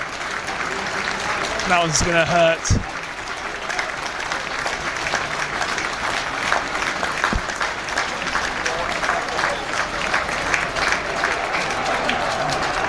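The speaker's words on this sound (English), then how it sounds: "He comes off to a resounding round of applause." Stadium crowd at a Huddersfield Giants versus Catalans Dragons rugby league match applauds an injured player leaving the field, broad steady clapping and crowd noise running throughout under a commentator's voice.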